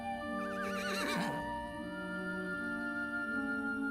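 A horse named Darby gives a loud, wavering neigh in The Good People video game, one whinny rising and falling near the start. A low steady game ambience runs under it, and a faint hoof clop may follow.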